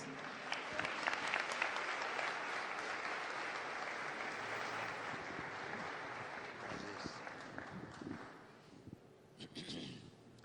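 A church congregation at an anniversary celebration breaks into sustained applause, a dense, even roar of many hands that tapers off near the end as voices emerge.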